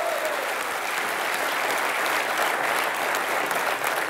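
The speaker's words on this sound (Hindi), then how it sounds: "जोरदार तालियां।" A television comedy studio audience claps loudly and continuously, a thick, even wall of applause filling the whole stretch without letting up.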